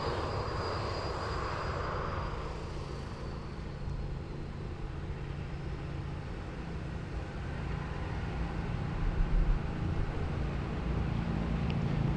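An airliner taking off at Sydney Airport, a broad steady engine roar with a low rumble that holds for the whole stretch and swells slightly louder toward the end, with no voices.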